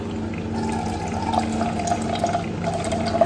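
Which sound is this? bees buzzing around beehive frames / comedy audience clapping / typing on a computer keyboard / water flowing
water flowing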